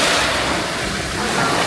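Broad, steady wash of sea waves and wind at a Batangas beach during a family outing, loud and continuous with no distinct breaks.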